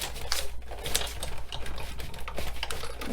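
Big Shot die-cutting machine rolling an embossing folder back out, soft rapid ratcheting clicks at close range with a few sharper ticks and no voices.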